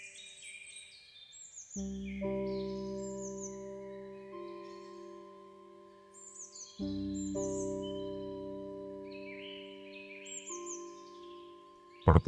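Wild Indonesian anis thrush sings long, melodious whistled phrases in the forest, clear repeated notes and sweeping calls arriving in two main bursts with pauses between.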